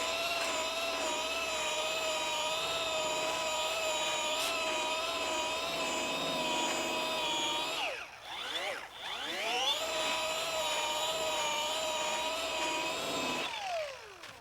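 A machine polisher works a pad over car paint, a steady close whirring hum that dips in pitch twice as pressure or speed changes and then recovers.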